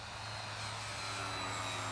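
A Tower Hobbies Rx-R F4U Corsair radio-controlled model airplane flies overhead, its propeller engine making a steady, continuous drone at moderate distance with no talking.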